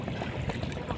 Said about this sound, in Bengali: নদীর ঢেউ